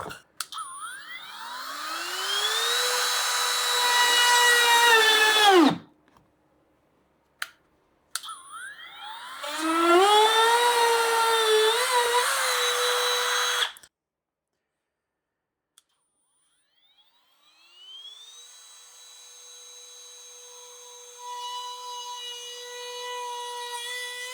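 A Parkside 12V PPFBSA 12 B2 precision sander-grinder cuts a circle in 1.2 mm plexiglass, giving two long rising whining bursts that stop abruptly, a few short blips, then a quieter steady run.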